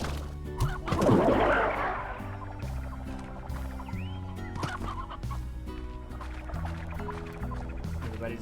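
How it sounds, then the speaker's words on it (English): Chickens cluck in the video game Slime Rancher, a burst of close, busy clucking early on followed by repeated steady clucks and game tones. "Let's go check on the chickens."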